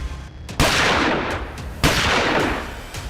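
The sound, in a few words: gunfire from viral video outside temple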